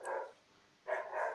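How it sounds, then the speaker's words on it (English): A pet dog barks in the background of an indoor conversation, two or three short muffled barks with a brief pause between them, moderately distant and fairly quiet. "That's my dog."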